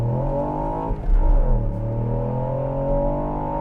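Ford Puma ST pulling away in first gear, a steady close engine drone with rising harmonics as revs climb, a brief thump near one second, heard from inside the car with no talk.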